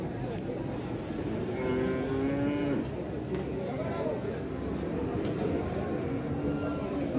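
Cattle low with drawn-out moos amid the constant crowd noise of a busy cattle market in Jatirogo, with people talking throughout.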